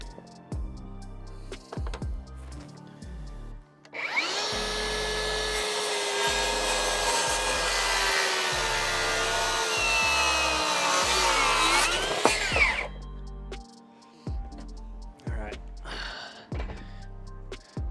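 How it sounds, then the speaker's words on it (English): A power saw rips through a wooden board with a knot in it, a loud sustained whining cut lasting several seconds. Shorter bursts and knocks of handling come before and after it. "you may have seen this saw try and pull up on me a little bit"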